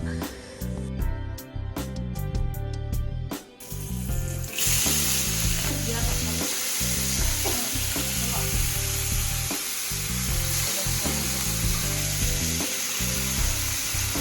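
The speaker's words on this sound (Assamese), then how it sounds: "সৰু মাছখিনি ভাজি থকা হৈছে" Small fish fry loudly in a pan, a dense crackling sizzle that swells and stays bright, with utensil scrapes and clicks scattered throughout.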